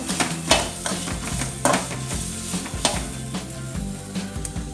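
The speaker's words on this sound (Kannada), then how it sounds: "ನೀರುಳ್ಳಿ ಒಂಜಿ ಕಂಡು ಟೊಮೆಟೊ ನೆಕ್ ಪಾಡ್ದ ಫ್ರೈ ಮಾಡ್ತದೆ" Onion and tomato fry in a pan for a traditional potato-pea gravy, giving a steady close sizzle broken by repeated scraping stir strokes and light clinks of a spoon against the pan.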